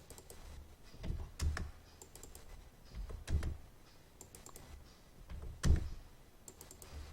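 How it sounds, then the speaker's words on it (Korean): Spreadsheet data entry on a computer keyboard: quiet, separate key clicks come in small bursts. Each burst is a double click, a dash and an Enter press, and the clicks are spaced out with short pauses between the groups. "직접 더블 클릭해서 줄표 넣고 엔터 칩니다"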